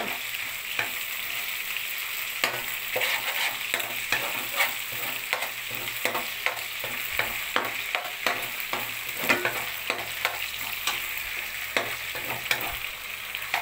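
Chicken wings fry in a pan with constant crackling sizzle while a utensil stirs and scrapes in a steady, repeated rhythm, close and fairly quiet throughout, before onions go in.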